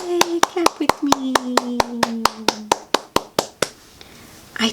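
About sixteen sharp hand claps in a steady, fairly quick rhythm, close and loud, under a voice speaking through the first half, then a short quiet gap at the end.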